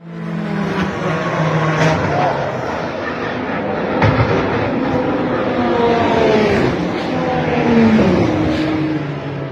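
A race car, the 54 car, accelerates out of the pit lane during a motorsport race, its engine a loud, continuous rising and falling drone with other cars roaring nearby.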